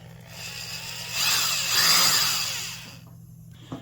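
A Porter Cable 2621 3/8-inch corded carpenter's drill briefly revving, its motor whine rising to a peak then winding down over a few seconds, fairly close with no talking.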